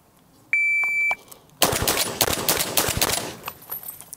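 An FN SCAR rifle fitted with a HUXWRX Flow 762 Ti suppressor fires a rapid string of sharp suppressed shots at a range, preceded by an electronic start beep, the reports loud and close with quick decaying echoes.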